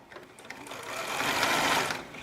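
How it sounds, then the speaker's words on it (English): A sewing machine stitches bias binding onto a garment neckline, a steady close mechanical whir that swells louder toward the middle of the run and then eases off. "We sew the binding into the neckline."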